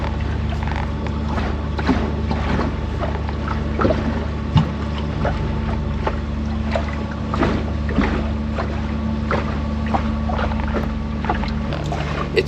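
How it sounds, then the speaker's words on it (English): Water splashes along both sides of a sailboat's bow while it is underway, heard from inside the V-berth on a crossing between Catalina and San Diego in Southern California. The sloshing is steady and continuous, with a low engine-like hum beneath it and no voices. "because the bow of the boat is splashing against the water, so you hear the water splashing on each side"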